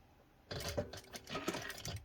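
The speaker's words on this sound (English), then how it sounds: "do a couple stitches and then start sewing down this side again" A sewing machine runs in a quick burst of close, rapid mechanical stitching while sewing ribbon onto webbing for a cat collar, starting after a short quiet pause and continuing steadily to the end.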